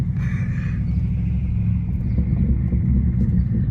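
Loud, steady low rumble from a BMW 550i with catless downpipes and a straight-piped exhaust, heard from inside the car while driving, a constant deep drone with slight surges.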